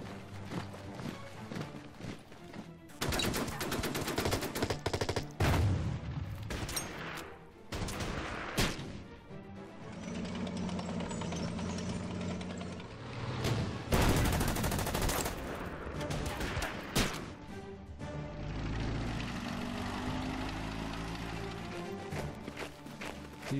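Anti-aircraft gun fire in the Order of Battle wargame, set in the Donbass: bursts of rapid shots and booming blasts come in irregular clusters, loud and near, separated by brief lulls of background noise.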